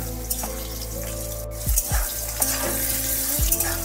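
Potato pieces frying in oil in a pan for a green pea dish, with a continuous sizzle and several scraping strokes of a spatula as they are stirred.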